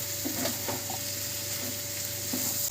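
Spring onion, potato and egg are stir-fried in a pan over a low to medium flame, with a steady close sizzle and a few soft scraping stirs, no voices.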